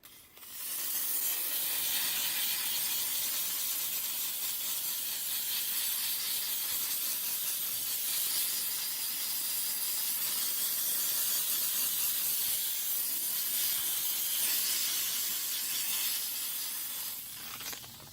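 A steam cleaner hisses continuously while steaming a car interior, a steady close broadband hiss that holds for the whole stretch before tapering off at the end.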